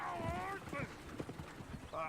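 Horse hooves clip-clop in Red Dead Redemption 2, a quick uneven patter of steps close by, mixed with game voices talking.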